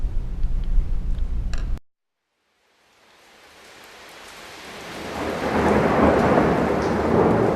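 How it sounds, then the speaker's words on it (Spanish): A loud rumble with steady noise cuts to silence, then heavy rain and thunder swell back in, building to a dense, continuous downpour. "Llueve"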